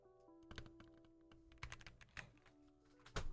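Typing on a Wilmir Z71 mechanical keyboard fitted with Gateron Pro Yellow switches, with quiet, close keystrokes in uneven bursts and a few louder thocks, with no talking.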